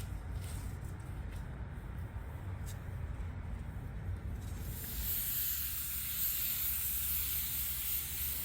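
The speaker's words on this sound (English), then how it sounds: "Got everything prepped, the blend area, everything, and I'm going to go ahead and tack it off, and we're going to start painting." A spray gun lays base coat onto a cracked Tesla Model 3 bumper during a mobile repair in Phoenix, Arizona, a soft hiss that swells louder and brighter about halfway through.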